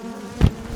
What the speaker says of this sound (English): And all these bees got in my helmet.